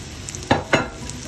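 Chicken noodles and vegetables fry together in a pan over high heat, a steady sizzle broken by two sharp, close clatters of a utensil stirring and knocking against the pan.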